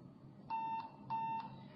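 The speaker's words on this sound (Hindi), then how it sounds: "बीप की आवाज मशीन एक्टिवेट होने का इशारा होगा" An electronic voting machine gives two clear, identical electronic beeps on activation, evenly spaced and fairly quiet over a faint background hum, with no talking.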